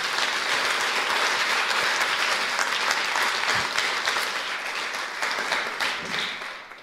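An evening audience at De Balie claps in a steady, full round of applause that holds strong for several seconds, then gradually thins and fades toward the end.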